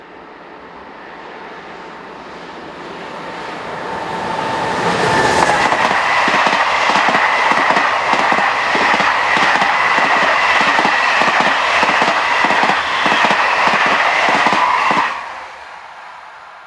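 Electric locomotive 26004 hauling the Paris to Cerbère passenger train past: a loud rushing roar that builds, then a long run of rhythmic wheel clicks over rail joints before it quickly fades away.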